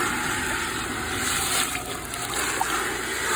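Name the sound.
water rinsing out an old aquarium tank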